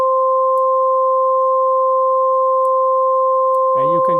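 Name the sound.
sine wave oscillator phase-modulated by LFO, VCV Rack synth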